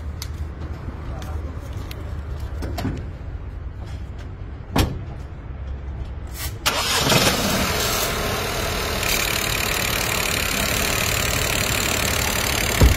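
A turbocharged 1.0-litre car engine runs at idle. Its steady low rumble grows louder and rougher partway through, with a faint turbo whistle, a door-like knock earlier and voices around it.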